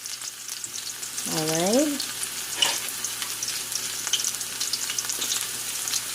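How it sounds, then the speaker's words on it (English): Garlic sizzles in 3 to 4 tablespoons of hot cooking oil, a steady crackling fry with small pops. A person speaks briefly near the start, over the sizzle. "It's already hot. So we're going to put our garlic."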